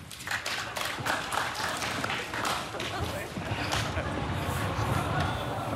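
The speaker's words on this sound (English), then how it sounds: "what a round of applause he got from the crowd" Studio audience at a late-night talk show applauding steadily, a dense wash of clapping that holds at an even level throughout with no talk over it.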